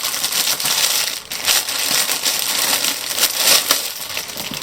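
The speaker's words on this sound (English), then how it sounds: "Again, sorry for the crinkly noise." Plastic packaging crinkling and crushing loudly up close while quilting fabric and sewing supplies are unpacked, a busy, uneven rustle with brief sharper crackles and no voice over it.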